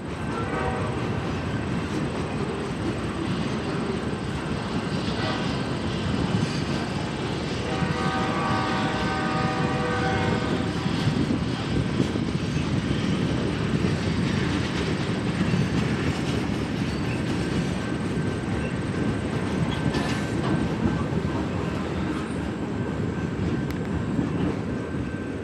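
Former CSXT freight locomotives roll past on a New England railroad line, a loud, steady rumble of engines and rail cars that holds for the whole stretch, with a faint horn-like tone partway through.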